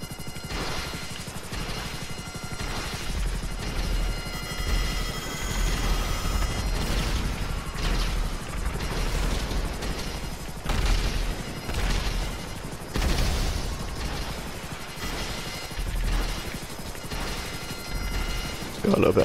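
Helicopter in a video game: a continuous loud rotor and engine drone with rhythmic thumping pulses and heavy low rumble, steady across the whole stretch.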